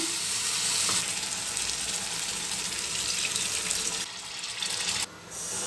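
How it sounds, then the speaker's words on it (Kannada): Water poured into a cooking pan of fenugreek gojju makes a steady rushing splash that cuts out briefly near the end, then resumes for a moment before stopping. "ಈಗ ಇನ್ನು ಸ್ವಲ್ಪ ನೀರು ಸೇರಿಸ್ತೀನಿ"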